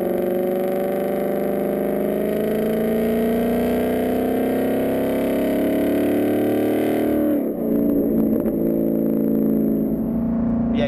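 A 2015-2019 Ford Mustang GT with a resonator delete H-pipe in place of the factory resonator drones loudly and continuously while driving, its exhaust tone rising steadily before easing off partway through.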